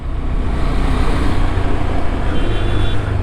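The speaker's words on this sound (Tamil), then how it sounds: "நல்லா டிராஃபிக் ஆகுது." Heavy, congested highway traffic heard from a motorcycle riding from Agra to Pathankot in India: a loud, steady rumble of engines and road noise with no breaks, close and continuous.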